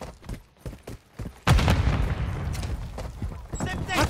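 A thrown grenade detonates in Modern Warfare 3, a heavy booming blast that cuts in sharply after a stretch of scattered gunfire and keeps rumbling on, with more shots following, while someone talks over the game.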